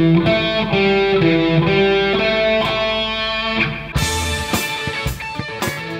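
A full alternate-picking riff on heavily distorted electric guitar, played slowly, rolling across strings note by note at close, loud level with no talk, then a brief flurry of muted, scratchy picked notes near the end.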